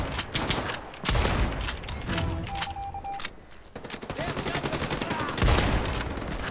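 Rapid gunfire in the World War II shooter Battalion 1944, bursts of close shots and fusillades through most of the stretch with a brief lull midway, heard under game ambience.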